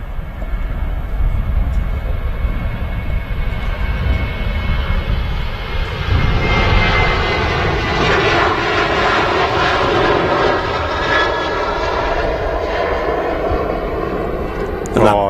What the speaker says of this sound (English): Now rolling on the runway is the SunExpress 737-800